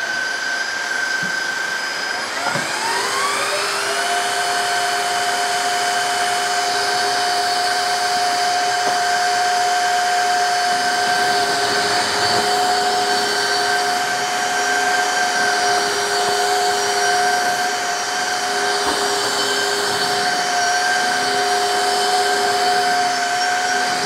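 Tineco Floor ONE S3 and Shark HydroVac cordless wet dry vacuum mops run together while cleaning up spilled chocolate, ketchup, milk and dry cereal, a loud steady motor whine with high tonal hum that rises as they start and holds throughout.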